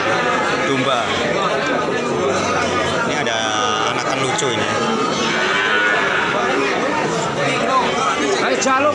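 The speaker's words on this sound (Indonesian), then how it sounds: "inilah situasi dan kondisi dari pasar kambing atau pasar kiri-kiri" A livestock market for goats, with bleating and lowing animals mixed into dense crowd chatter, continuous and loud at close range while people talk throughout.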